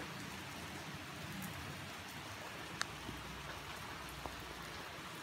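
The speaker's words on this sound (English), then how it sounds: "For a rainy day today." Steady rain falls throughout on a rainy day, a constant soft hiss with scattered droplet ticks and a couple of sharper close drips, no voices.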